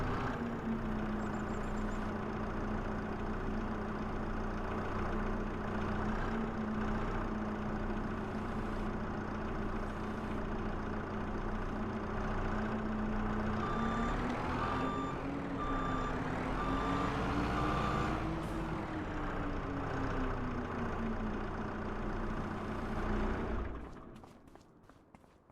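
A flatbed truck engine in a video game drones steadily at idle and low revs, its pitch rising briefly, with intermittent reversing beeps, before the sound cuts off.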